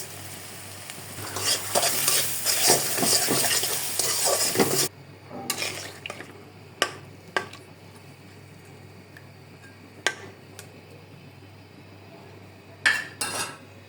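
Fish seasoned with chili powder and salt fries in a pan with a loud, dense sizzle at first. The sizzle then settles to a softer crackle broken by a few sharp clinks of a utensil or lid, with no voices.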